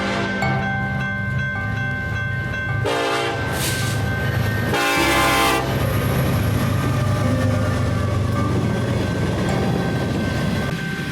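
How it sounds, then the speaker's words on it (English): An empty BNSF grain train led by an ACe diesel locomotive passing close by, loud rumble and rail noise throughout, broken by two sharp horn blasts. "this empty grain train with an ace leading"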